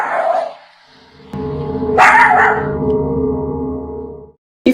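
A nervous dog barks indoors toward an empty corner, a few loud sharp barks and yips, close to the microphone, with a steady hum in between and a quieter whimper at the start.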